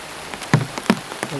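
Steady rain hisses on surfaces, with a few louder drops landing close by.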